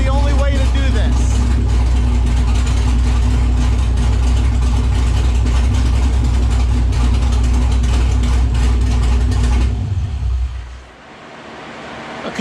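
A V6-to-V8 swapped Camaro's V8 idles after a throttle-blade adjustment, a loud, steady low rumble close by that holds evenly before dropping away near the end.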